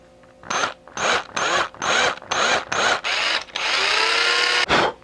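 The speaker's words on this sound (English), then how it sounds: "I'm going to clean up a little bit and start drilling these holes" A power drill whirs in roughly seven short, loud bursts, close by, drilling holes in a handmade swimbait, then runs longer and steadily before a final brief burst.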